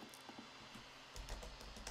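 Rapid clicking keystrokes on a computer keyboard while laying out an academic poster in Google Slides, steady light tapping that grows slightly denser and louder partway through, heard alone.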